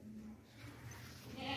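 A tall, long-bodied goat at a livestock market gives a faint, drawn-out bleat that swells toward the end, close by amid light background noise.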